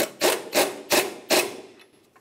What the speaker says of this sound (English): Now we can bottom out each of our ball joint nuts.